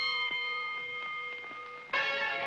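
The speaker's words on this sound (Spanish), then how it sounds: "Al sonido de la campana, salgan peleando." A cartoon boxing bell rings with a sustained, shimmering metallic tone, then a second louder strike near the end brightens the ringing.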